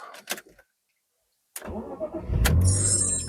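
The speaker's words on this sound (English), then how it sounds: "So first things first, let's start the car up." A BMW Z3 engine starts: brief clicks, a pause, then the starter cranks and the engine catches into a loud, steady idle close to the microphone.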